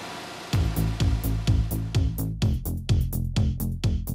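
A Vits Rotocut sheeter runs at full production speed while lowering the paper pile, giving a loud, steady mechanical drone with a regular thumping beat about twice per second.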